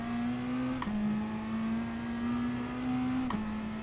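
A Peugeot race car engine in Gran Turismo holds a steady high drone with one brief shift in pitch, close and continuous with no talk.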